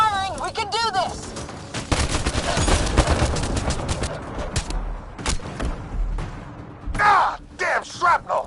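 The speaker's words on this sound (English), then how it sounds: "Just keep firing, we can do this!" Gunfire in the video game Mass Effect: Andromeda, a sustained loud barrage of rapid shots with short shrill alien cries, close, with voices talking over the fighting.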